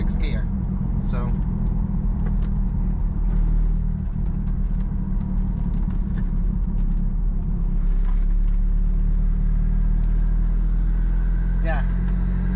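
A turbocharged car engine drones steadily under boost while cruising in sixth gear through a roundabout, a low continuous rumble of engine and road noise beneath a person talking throughout.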